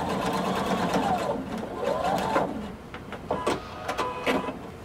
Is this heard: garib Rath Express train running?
no